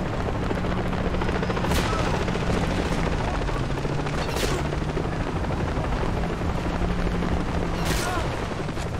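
Helicopter in the Far Cry 3 video game, a loud continuous rotor thrum throughout, with sharp bursts of gunfire and explosions at intervals and someone talking in German over it.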